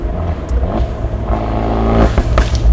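Inside an Abarth 124 Spider on a night drive, the exhaust hums low and steady while cruising in fourth gear at 2,500 RPM, a smooth rumble without drone that swells slightly near the end.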